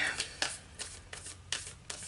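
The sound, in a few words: shuffling an oracle card deck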